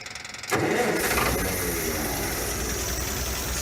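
An old engine cranks with a quick rhythmic chugging, catches after about half a second, then settles into a loud, steady, rough running drone close by, with no voices.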